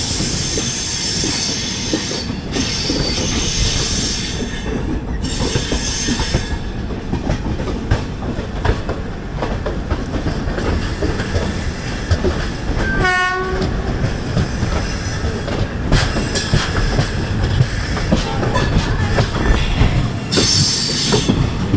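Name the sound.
local train with electric locomotive passing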